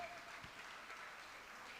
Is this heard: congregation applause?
yes